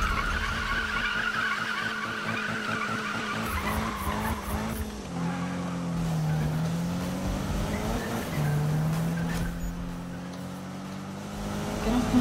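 A car drifts in the Need for Speed racing game, engine revving and wavering beneath long, loud tire squeals and skids that rise and fall over several seconds.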